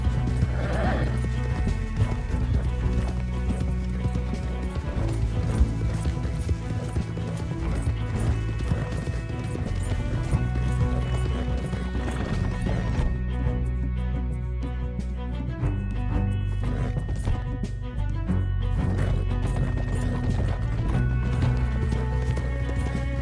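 Horses gallop in Red Dead Redemption 2 in a steady rush of hooves with loud whinnies, layered over a dense, constant wash of game music and ambient noise.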